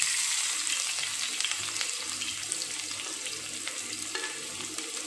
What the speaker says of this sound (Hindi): तेल गर्म हो चुका है, अभी हम इसमें डालेंगे राई। राई कटा हुआ प्याज